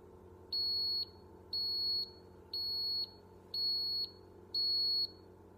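Five short, high-pitched electronic beeps from a Ninja coffee maker finishing brewing, at an even pace, each lasting about half a second, sound over a low steady hum.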